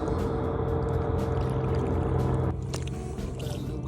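A low, steady boat engine drone with water lapping close by in fog off Cliff Island, Maine, the motor rumble shifting and easing partway through as boats pass.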